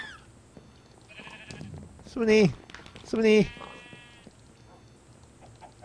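Two loud, wavering sheep bleats sound in the Minecraft video game about a second apart, close and clear, with a person speaking quietly in between and a soft game background hum.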